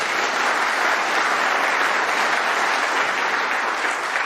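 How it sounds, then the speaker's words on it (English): A snooker audience applauds at the Champion of Champions, a steady, even wash of clapping from a sizable crowd that sustains at full strength throughout. "A deserved round of applause."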